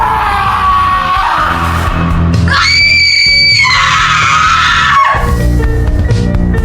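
A 15-year-old girl screams loudly on waking in a girls' dormitory: a sustained, piercing shriek lasting a few seconds, set within a dense, loud backdrop of other sound.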